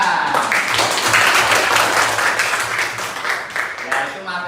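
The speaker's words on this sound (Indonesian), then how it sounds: "Tepuk tangan." A classroom erupts in applause, many hands clapping in a dense burst that gradually thins, with voices mixed in.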